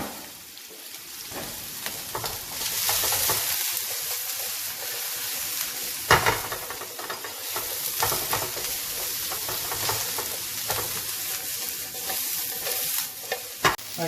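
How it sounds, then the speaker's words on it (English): Chicken chow mein vegetables stir frying in a hot pan: a steady, loud sizzle and hiss with repeated scraping stirs and clatters running throughout, with no voices. "Okay, that's 3 minutes stir frying the veggies."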